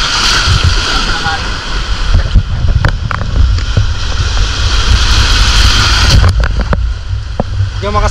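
Big ocean waves surge and crash at high tide during night spearfishing for lobster, a loud continuous roar of surf and wind buffeting the microphone, with splashes and sharp knocks close by and voices talking.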